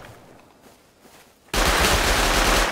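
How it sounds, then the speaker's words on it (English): Rapid automatic gunfire from a Rust battle royale mod match bursts in abruptly and loudly after a quiet stretch, a dense continuous rattle of shots that runs on without a break. "I shot him in the head"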